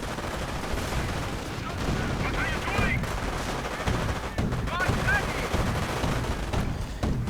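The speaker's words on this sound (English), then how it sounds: "Fallschirmjägers are losing men to the heavy submachine gun fire." Heavy submachine gun fire in a WWII strategy game, rapid overlapping bursts of shots mixed with distant battle noise and ricochet-like whines, continuous and fairly loud throughout.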